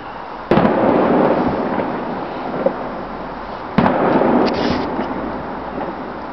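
Distant fireworks bursts boom in two sharp reports a few seconds apart, each followed by a long rumbling wash of crackle and echo, with no voices.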